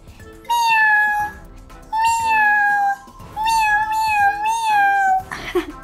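A voice imitates a cat meowing, giving three long, wavering meows in steady succession with short pauses between, close and loud against a quiet background.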